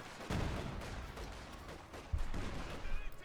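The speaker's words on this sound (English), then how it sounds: "Divisional field gun setting up here, bombarding." A divisional field gun bombards in the Company of Heroes 2 strategy game, with two heavy booming shots among scattered battle noise, moderately loud against a busy wartime soundscape.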